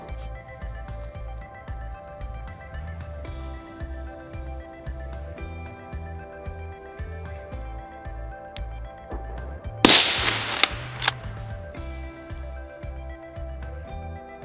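Rifle shots fired while breaking in a barrel: a short cluster of sharp, loud cracks bursts out partway through, laid over continuous background music.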